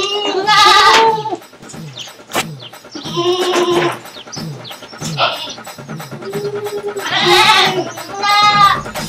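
Goats in a village goat shed bleat loudly again and again, with wavering, quavering cries spread through the stretch and scattered clatter and rustling between them.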